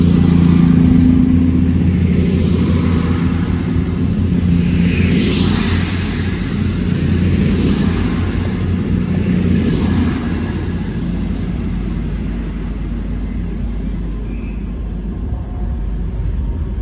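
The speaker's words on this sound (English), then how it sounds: "here comes the 1539 cross country service to Plymouth via Derby from Edinburgh, 221128" A CrossCountry Class 221 diesel multiple unit pulls into Chesterfield station, its engines giving a steady loud rumble that swells and then holds throughout, with no speech.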